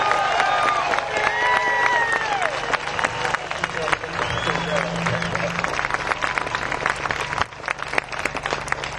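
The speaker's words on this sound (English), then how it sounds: "Please give a round of applause for a man who gives a lot back to our community, Jim Mattress Mac McIngvale." A crowd at a Tea Party rally claps and cheers for Jim 'Mattress Mac' McIngvale, with dense continuous applause and whoops throughout.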